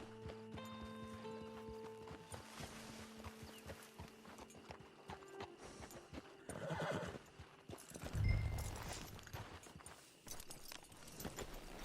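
In Red Dead Redemption 2, a horse snorts and neighs loudly while its hooves clop in uneven steps nearby, with a sharp whinny near the end, all faint overall.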